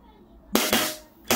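A WE Glock 19 Gen5 airsoft pistol fires in a blowback test, three sharp, loud cracks in quick succession with the slide snapping back, close by after a quiet moment.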